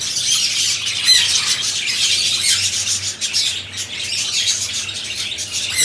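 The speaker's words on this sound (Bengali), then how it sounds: "দেখেন আমাদের পাখিগুলা খুব সুন্দর, সবাই উড়াউড়ি করতেছে।" Pet birds in a home aviary squawk and chirp in a dense, continuous chorus close by, with constant overlapping high calls and some fluttering, and no talking over them.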